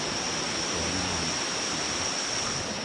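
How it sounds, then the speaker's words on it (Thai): Ngao Waterfall in Ranong province, Thailand, pours in a steady, loud, unbroken roar of rushing water heard close up, with no voices. "น้ำตกเหงาจังหวัดระนองครับ"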